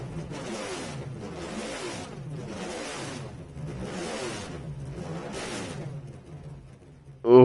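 A racing car in Gran Turismo 7 endurance racing revs repeatedly in steady pulses, its engine note rising and falling about five times. A sharp, louder burst comes right at the end.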